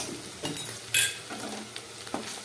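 Ground coriander, cumin and dry chilli are stirred and fried in a pan for a sweet fish curry. A soft sizzle runs throughout, broken by a few scraping stirs and light clinks of the utensil, close but fairly quiet.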